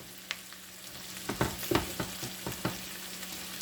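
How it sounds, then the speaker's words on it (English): Salted meat for a low-carb Philly fries in a pan, with a quiet steady sizzle under a cluster of knocks and scrapes as a utensil stirs it, and no talking. "Stir this again."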